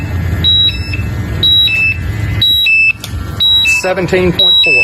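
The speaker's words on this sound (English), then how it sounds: "You can hear the alarm going off." A portable gas monitor sounds its low-oxygen alarm in a hazardous atmosphere, repeating two-tone electronic beeps in a steady rhythm over background engine rumble, with a person talking toward the end.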